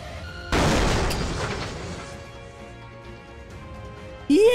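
A bomb explodes in the video game Buckshot Roulette (Plunger Roulette): a single sudden loud boom followed by a long, fading rumble.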